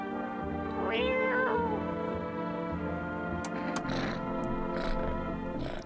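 A cat meows in the No, I'm Not a Human video game, a short rising and falling call near the start that stands clear of a steady game music bed, with softer faint sounds later.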